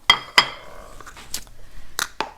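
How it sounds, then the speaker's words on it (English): A heavy pan clanks sharply twice on a hard surface, then gives softer knocks and rattles during the making of almond halwa. "this pan is really heavy, so let's see if I can get it"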